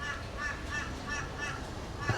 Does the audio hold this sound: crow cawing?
yes